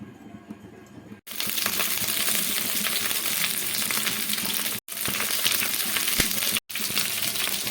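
Stuffed capsicum drops into hot oil in a pan and fries, bursting into a loud, steady close sizzle after a quieter start, with two brief cuts breaking the hiss.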